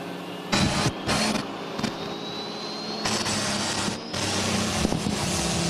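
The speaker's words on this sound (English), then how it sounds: "And you heard that tractor there at the end of the track." Pulling tractor engine roaring at the end of the track at a pro pulling event in Mount Sterling, Illinois, a loud sustained mechanical drone with a rising whine and surging bursts, heard from a distance across the grounds.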